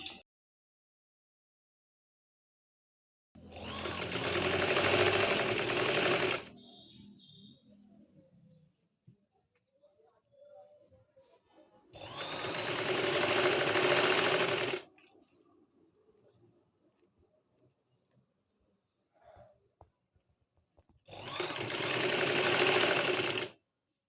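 A sewing machine stitches a baby frock in three separate runs of fast, loud whirring, with near-silence between them and faint handling noises in the pauses.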